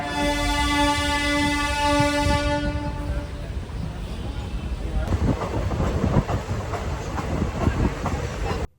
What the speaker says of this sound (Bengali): আমি সিটে বসার লগে লগে কিন্তু ট্রেনটা ছেড়ে দিল কুচবিহারের উদ্দেশ্যে